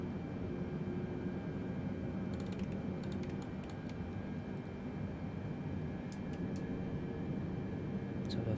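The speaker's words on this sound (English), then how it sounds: "We're lowering flaps now, which will allow the aircraft to fly low and slow the runway without causing any problems for ourselves." Boeing 747 flaps lowering in Microsoft Flight Simulator 2020, a low steady mechanical hum and whine over continuous cabin engine drone, with faint intermittent clicks and creaks, quiet and even throughout.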